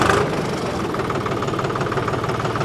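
A tractor engine runs steadily in high gear while driving, a close, continuous low rumble with a slight knocking pulse and no clear change as it brakes; no voices.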